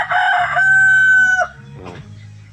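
A rooster crows once, a loud, close, drawn-out call from a farmyard near a small hut, ending in a short trailing note with quiet rustling behind it.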